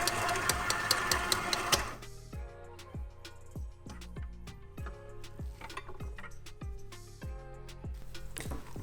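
Electric mixer beating chocolate cake dough at low speed with flour being worked in, a loud rhythmic whirring with repeated mechanical knocking beats, steady and close, no talking.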